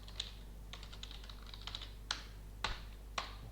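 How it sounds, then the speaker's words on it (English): A computer keyboard being typed on to enter a command to run a Java jar file: a handful of separate clicky keystrokes with uneven gaps, a few sharper key taps standing out near the end, close and quiet over a low steady hum. "just type it in here, Java -jar, just running a jar file"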